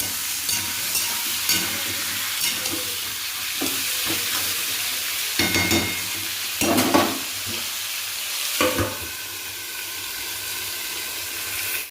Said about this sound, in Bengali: লবণ দিয়ে নেড়ে ঢাকা দিয়ে দেবো